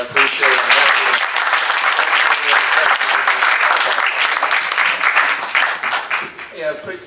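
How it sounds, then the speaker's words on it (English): Sustained audience applause for a group of politicians, leaders and volunteers at a political gathering, loud and dense throughout with voices mixed in, tapering slightly toward the end. "please give a big round of applause to all these politicians"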